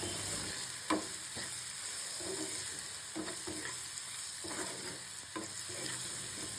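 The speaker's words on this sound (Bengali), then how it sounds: "হলুদ দিয়ে আরও খানিকক্ষণ নাড়াচাড়া করে ভেজে নিতে হবে" Potatoes and turmeric sizzle steadily in a pan for a mustard greens dish, with occasional sharp scrapes and knocks of a spatula stirring them, close and unaccompanied by speech.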